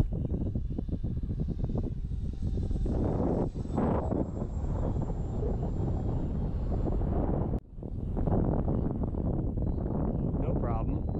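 A FliteTest P-38 radio-controlled model plane flies at a little over half throttle, its steady motor drone mixed with heavy wind buffeting on the microphone, dipping briefly once before returning at full strength.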